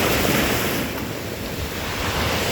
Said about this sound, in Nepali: छाल आउँदैछ छाल आयो